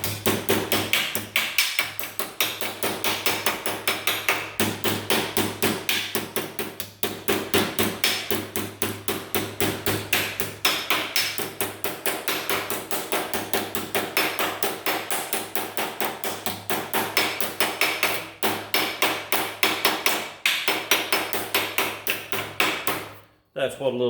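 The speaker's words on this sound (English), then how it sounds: "That's what a little body hammer and a little bit of time will do." Rapid, steady metallic tapping from a small body hammer on thin sheet metal of about 30 gauge on an 8000 W Titan generator, continuing almost without pause for the whole stretch, close up.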